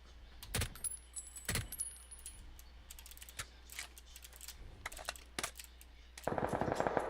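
Rapid video game gunfire crackles in scattered bursts, sharp and punchy, building into a dense, continuous volley near the end.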